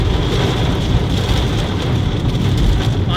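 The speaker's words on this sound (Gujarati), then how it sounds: "વરસાદ ચાલુ ફૂલ વરસાદ ચાલુ છે યાર." Heavy rain pours down around a car being driven, a steady, dense broadband hiss of water drumming on the roof and windshield that continues without a break, with no voices.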